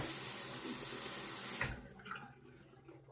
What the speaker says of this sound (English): I guess I'm ready to wet the razor here.